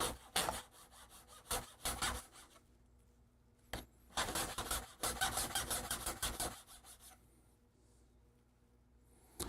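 A hand file chamfers the ends of small metal pieces in quiet bursts of rasping strokes, several quick passes at a time separated by short pauses.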